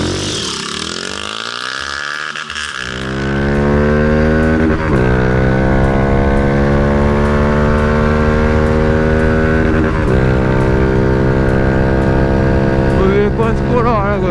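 A motorcycle fitted with a Toro Performance exhaust revs hard, the engine note climbing in long rising sweeps with brief drops between pulls, loud and close throughout.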